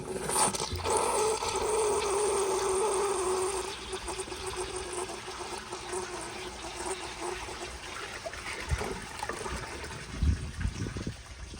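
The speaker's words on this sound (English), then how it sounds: "So tank just finished filling, and here is a flush" An American Standard Baby Devoro toilet flushing in a performance test, a loud rushing surge of water for about four seconds that settles into a steady, quieter trickle and gurgle as the bowl refills.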